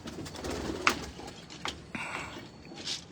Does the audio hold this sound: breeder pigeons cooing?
yes